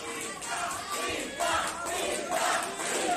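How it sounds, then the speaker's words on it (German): A pro wrestling crowd at a Power Slam event cheers and shouts encouragement for a wrestler, a dense, continuous roar that swells in waves and peaks sharply at the end. "Das Publikum unterstützt hier. Peter White, feuern ihn an."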